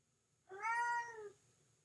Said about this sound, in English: that's my cat meowing